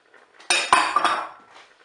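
Stirring peas and other paella ingredients in a Cookeo pot, with a burst of metal spoon scraping and clinking against the pot for about a second, close and clear, then fading.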